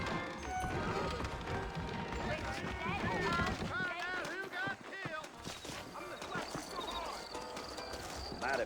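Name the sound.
horses galloping, hooves clip-clopping, in Red Dead Redemption video game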